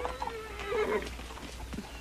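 A horse whinnies in a drawn-out, wavering neigh, moderately close, with faint hoof movement around it.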